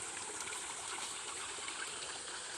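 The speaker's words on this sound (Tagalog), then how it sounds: "dito kumukuha ng tubig sa sapa" A farm stream flows steadily, its continuous bright rush of water close and even, with no voices over it.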